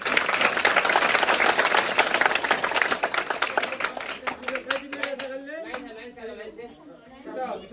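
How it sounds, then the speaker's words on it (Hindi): Children and adults at a one-day workshop applaud as certificate recipients are named, dense clapping that fades after a few seconds into scattered claps, with a voice speaking toward the end. "तालियों की आवाज।"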